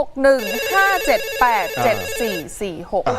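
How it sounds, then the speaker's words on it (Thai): A telephone rings loudly and close with a melodic ringtone, rising and falling tones repeating throughout, over a faint background hum. "ทีมงานรับโทรศัพท์หน่อยฮะ"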